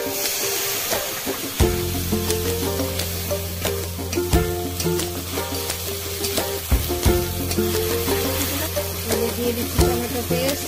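Pointed gourd frying in a pan for a prawn malaikari, a continuous sizzle with frequent scraping and stirring knocks, close up, under a steady low background tone, no talking.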